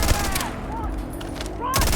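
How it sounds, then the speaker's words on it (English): Rapid automatic fire from a heavily modified high-fire-rate AK rifle in the sci-fi game Starfield, a dense continuous stream of shots filling the whole stretch with a louder burst near the end. "Oh, I love this AK. It's such a bullet hose."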